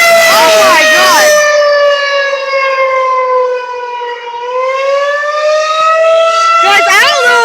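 A tornado civil defense siren being tested wails loudly and steadily, its pitch dipping and rising as the rotating horn sweeps away and back toward the listener. Excited voices shout over it at the start and end.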